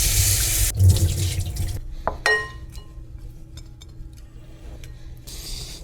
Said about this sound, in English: I like to just give it a little bit of rinse with cold water.